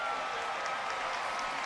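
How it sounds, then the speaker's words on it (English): A hockey arena crowd at a Newfoundland Growlers versus Adirondack Thunder game cheers and applauds in a steady, distant wash of clapping and noise, with a commentator's voice mixed in. "That's got the crowd cheering."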